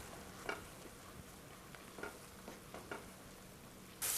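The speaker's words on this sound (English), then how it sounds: "I'm sauteing some shrimp and crab meat in butter" Shrimp and crab meat sautéing in butter, a faint, soft sizzle with a few quiet scraping stirs and light taps, ending in a brief louder hiss.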